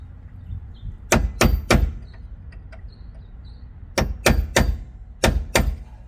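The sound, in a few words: hammer striking a punch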